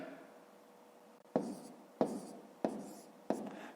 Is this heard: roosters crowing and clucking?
no